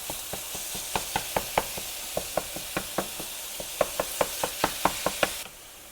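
Ground chicken sizzles steadily in a pan over a little above medium heat, with a regular run of sharp spatula knocks and scrapes as the meat is broken up, close and alone.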